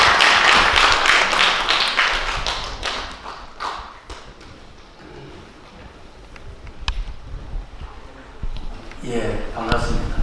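Audience applause at a Korean book launch event welcoming the president of Global Cyber University to the stage, with a loud burst of clapping at the start that thins into scattered claps, then swells again near the end amid murmuring.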